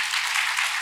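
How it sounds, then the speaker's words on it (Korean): Audience applause closing a conference panel session on non-scripted content, a dense, steady wash of clapping that holds at an even level for under a second with no voices. "박수 한번 해주시죠."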